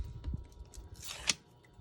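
A few quiet snips of Tim Holtz scissors cutting, with a sharp close click near the end, no talking.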